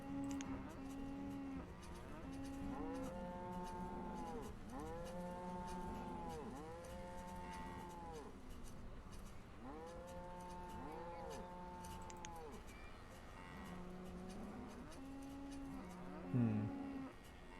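Cattle in the video game Banished moo repeatedly in a quiet scene, several long, low, rising-and-falling calls arriving in clusters, fairly faint and with no talking over them.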